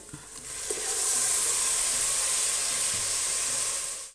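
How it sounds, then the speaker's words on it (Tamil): Tomatoes poured into a hot pan for a tomato rice biryani, a loud hissing sizzle that swells up after a quiet start and holds steady before cutting off, with faint stirring knocks. "இப்போ தக்காளி ஊற்றிக்கிறேன்"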